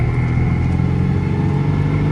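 A 1986 Citroën 2CV drives in second gear from inside the cabin, its small engine giving a loud, steady drone with constant low hum and no talk over it.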